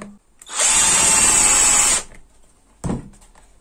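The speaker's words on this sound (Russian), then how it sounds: "закручиваем ее в шуруповерт и в любом месте у нас сразу получается отверстие" A cordless screwdriver spins a sharpened tube into material to bore a hole, giving one loud, steady high-pitched whir of about a second and a half that stops abruptly, followed by a short thud.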